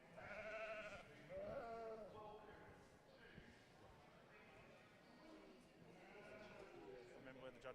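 Dorper sheep bleating at a sheep show in Australia, several loud wavering bleats close by, mixed with a handler speaking and faint hoof shuffling in the background.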